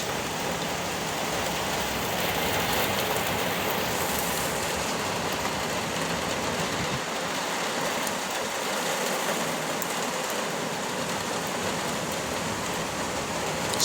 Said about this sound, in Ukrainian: настільки плотний дощ.